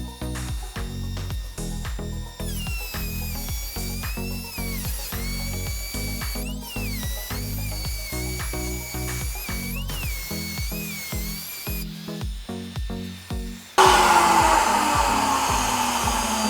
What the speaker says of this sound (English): We now have routed out a channel for our trellis to set inside.